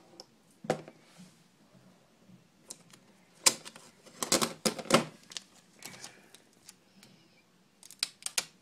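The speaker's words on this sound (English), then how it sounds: "You can cut 7 inches and then cut it down the middle." Scissors snipping through duct tape while a basket is woven from it, giving a few sharp cuts and crinkly tape handling noises in short bursts, close and fairly quiet, with no talking.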